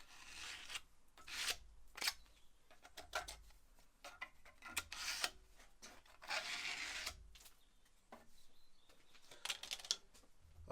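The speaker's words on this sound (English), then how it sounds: "Now I'll just scrape off the excess." A tool scrapes excess material off a repaired fireplace cornice, making soft, irregular rasping strokes in bursts of varying length, close-up and fairly quiet, with no talk.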